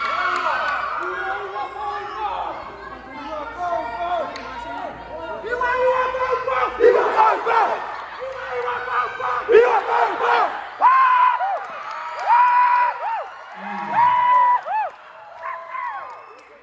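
A Chuukese wedding crowd chants in unison and cheers loudly with whoops and shouted calls, rhythmic group voices rising and falling close by.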